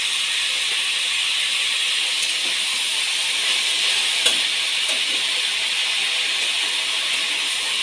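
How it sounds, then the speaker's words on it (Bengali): Shredded cabbage frying with salt and turmeric in a pan for homemade restaurant-style chow mein gives a steady, close hiss of sizzling oil, with a few faint clicks of the spatula. "সামান্য পরিমাণে নুন আর অল্প পরিমাণে হলুদ দিয়ে আমি ভেজে নেব"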